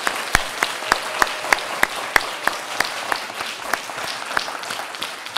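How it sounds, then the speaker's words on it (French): An audience claps in unison, with loud, evenly spaced beats repeating steadily over a softer bed of scattered applause. "Je demande un tour d'applaudissements pour tous les orateurs et toutes les oratrices."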